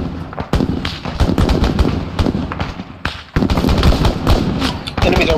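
Dense, rapid gunfire in an Arma 3 military-simulation firefight at night in a town: overlapping machine-gun bursts and single shots crack loudly and almost without pause, with brief lulls and possible faint voices underneath.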